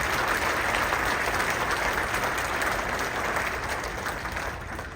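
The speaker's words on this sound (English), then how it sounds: "Give him another round of applause." The audience at a school winter band concert applauds Mr. Favo with a full, steady roar of clapping that stays loud for several seconds and then eases slightly.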